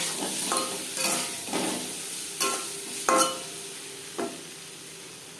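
Turmeric powder and salt sizzle in two spoons of hot mustard oil, a steady fry hiss broken by several sharp stirring scrapes and clinks at an even, unhurried pace, close by with no talking.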